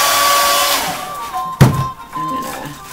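A hair dryer runs steadily for most of the span, with a sharp knock midway and a brief dip before the motor drone resumes, used while working on a wine bottle craft project.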